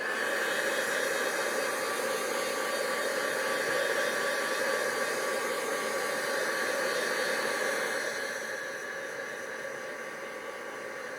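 A heat tool blows a steady, loud hot-air roar with a whining hiss while drying a mixed media card, continuous and close, dropping slightly in level near the end.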